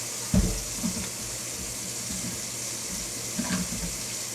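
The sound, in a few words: cold tap water running, rinsing a cup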